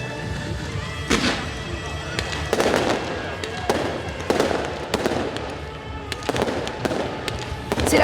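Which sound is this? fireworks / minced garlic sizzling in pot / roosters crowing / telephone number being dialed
fireworks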